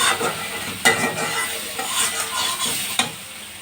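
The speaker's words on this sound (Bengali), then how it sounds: "খুব ভালো করে মশলাটা কষে নিচ্ছি।" Spice paste being stir-fried in a wok, a close, continuous sizzle with scraping stirs and two sharp utensil knocks against the pan.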